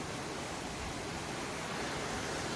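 Koh Adang waterfall on Koh Lipe, heard close as a steady, even rush of falling water, broadband and unbroken, with no voices.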